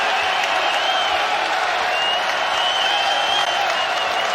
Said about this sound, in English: Crowds come alive.